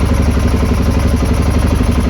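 A Honda XR650R motorcycle engine idling after a kick start, a close, steady, even thumping beat with some mechanical clatter, loud and alone.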